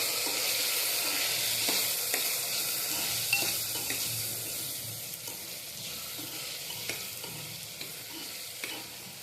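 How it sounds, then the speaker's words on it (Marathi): Turmeric sautéing in a pan for masala rice, a bright continuous sizzle with light scraping stir strokes and small clicks, close and steady with no voices. "हळद टाकल्यानंतर थोडंसं परतून घ्यायचं."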